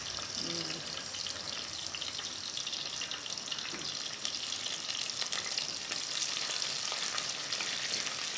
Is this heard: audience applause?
no